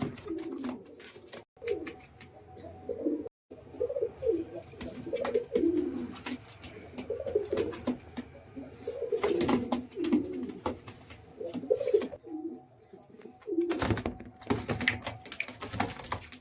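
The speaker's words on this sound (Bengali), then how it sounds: "কেমন লাগলো আপনাদের এই পায়রা জোড়াটা" Madras pigeons cooing close by in repeated soft, throaty bursts, with scattered clicks and brief gaps between calls.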